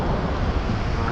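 Rough sea near a reef gives a dense, broadband roar of surf and wind, loud and unbroken for about a second with no distinct wave breaks.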